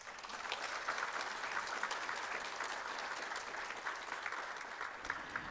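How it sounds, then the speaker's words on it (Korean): Sustained audience applause at a lecture, a dense, even wash of clapping from a crowd lasting several seconds without pause. "큰 박수 부탁드립니다."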